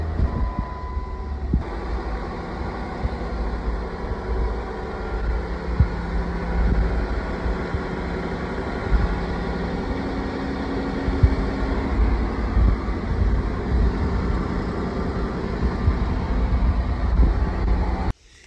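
A Jeep Wrangler JK, about eleven years old with around 100k miles, runs with its engine on; a steady low rumble continues throughout with no talking, cutting off abruptly at the end.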